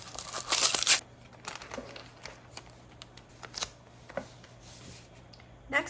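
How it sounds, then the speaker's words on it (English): Crinkling and rustling as a roll of wide floral-pattern washi tape is handled and unwrapped, with a burst of crackly packaging noise at the start and scattered soft handling taps and crinkles afterward. "Wide washi tape."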